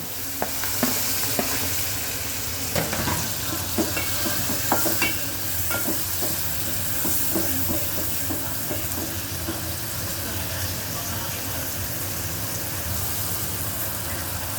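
Prawns fry in a spiced oil tempering with red chilli and turmeric, a dense, steady sizzle close by, dotted with sharp crackles and utensil scrapes early on, then settling into even frying.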